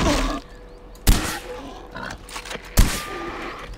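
Grunting pig in the video game Far Cry 4, short rough snorts mixed with two sharp thuds and busy game sounds, brief and fairly faint.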